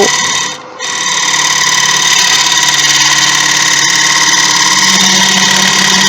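A wood lathe spins steadily while a bowl is hollowed, giving a loud, continuous mechanical hum with bright tool-on-wood tones. A brief dip near the start quickly returns to a sustained cutting drone.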